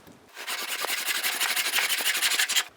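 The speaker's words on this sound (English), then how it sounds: "I'm now going to cut this to length using a tenon saw and my little bench hook that I made." A tenon saw cuts through dressed pine held on a small wooden bench hook, giving fast, regular rasping back-and-forth strokes, close and loud, that start after a brief quiet moment and carry on steadily to the end.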